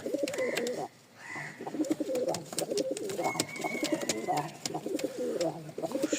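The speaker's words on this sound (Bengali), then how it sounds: "এই দেখেন কবুতর" Pigeons coo repeatedly close by, soft throaty rolling calls in overlapping bursts, with a few sharp clicks and rustles between them.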